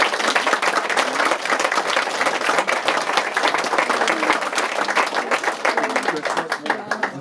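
Wedding guests at a reception break into a steady, dense round of applause lasting several seconds, with a few voices mixed in among the clapping.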